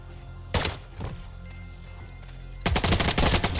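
Gunfire in the Intravenous action video game: a single sharp shot, a softer thud, then a rapid cluster of loud shots in the final second, over a low steady background hum.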